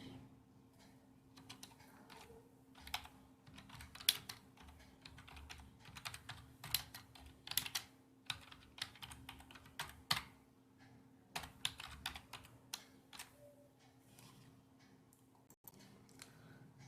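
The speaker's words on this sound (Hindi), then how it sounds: "अब हम Alt और एंटर दबाते हैं।" Someone presses keys on a computer keyboard, including Alt and Enter, giving faint, close, scattered clicks at an irregular pace over a low, steady hum.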